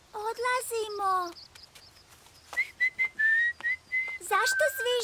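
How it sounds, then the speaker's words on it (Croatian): Whistling by a cartoon character, heard up close as short rising and falling notes with pitch glides, broken by bursts of lively talk. "Zašto zviždućeš?"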